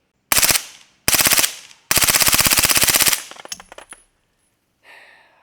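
Suppressed MP5SD submachine gun firing 115 grain supersonic rounds outdoors: three loud bursts of rapid sharp cracks, the last one long, then casings clinking and a faint trailing noise.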